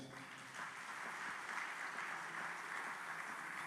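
Church congregation applauding during a French-language sermon, a faint, steady wash of clapping heard from a distance for a few seconds.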